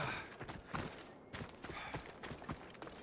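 Horse hooves clop and scrape over rocks in the video game Assassin's Creed Odyssey, uneven muffled thuds repeating about twice a second over a steady background wash.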